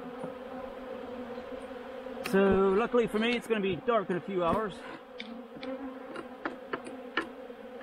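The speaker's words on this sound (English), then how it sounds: "That's what a robbing frenzy looks like." Honeybees in a robbing frenzy around a hive frame make a dense, steady buzz that swarms close to the microphone and runs the whole time, with someone talking over it.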